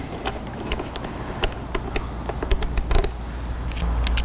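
Exhaust mount bolt for an FMF slip-on motorcycle exhaust being threaded by hand, giving close, repeated small creaking and metallic scraping ticks in an uneven rhythm.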